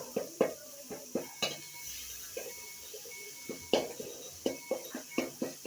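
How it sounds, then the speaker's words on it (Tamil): A utensil stirs tomatoes sautéing in oil in a pan, making repeated scraping knocks and clinks close by at an uneven rhythm, with a faint sizzle underneath. "நல்லா வதக்கி விட்டுக்கலாங்க"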